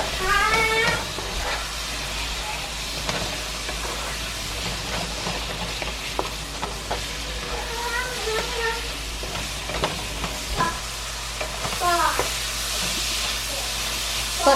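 Spiced food cooks in a pan, giving a steady, fairly loud sizzling hiss that runs the whole time, with intermittent voices talking over it.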